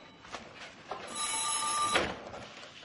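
A telephone bell rings in a film scene, one sustained bright electric ring lasting about a second amid quiet room tone, with no talking over it.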